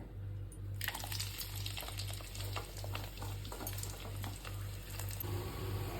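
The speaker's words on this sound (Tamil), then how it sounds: "இப்போ கட் பண்ண வெங்காயத்தை முதல்ல போட்டுக்கிறேன்" Chopped onions frying in hot oil for homemade hair oil give a steady close sizzle with scraping stirs, continuous over a low electrical hum, with no talking.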